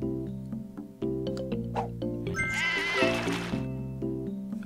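A sheep bleats in the puzzle video game Divide By Sheep, one wavering cry over a looping, stepping game music track that plays throughout.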